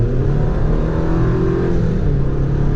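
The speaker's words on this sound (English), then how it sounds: "And mild acceleration, we're up to speed." A four-cylinder engine in a 2023 GMC Canyon Crew Cab pickup truck hums and rises gently in pitch as it accelerates, a steady close drone with no talking.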